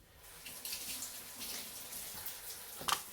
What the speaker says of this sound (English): I'm going to wash the carrots